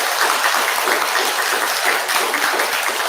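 Sustained applause from a Buddhist temple congregation at a Sunday dharma service, a dense, steady wash of many hands clapping close by, with no talking over it.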